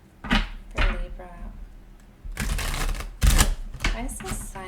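A new, stiff deck of tarot cards being shuffled, with short bursts of riffling and card snaps coming in uneven clusters, close and fairly loud.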